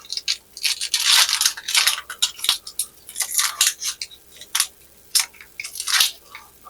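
A knife cutting up an onion for a stewed turkey, producing a steady run of crisp, close crunching slices in an irregular rhythm with no talking.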